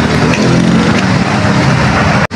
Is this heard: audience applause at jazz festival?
no